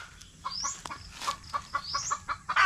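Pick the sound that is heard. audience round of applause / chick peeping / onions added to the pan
chick peeping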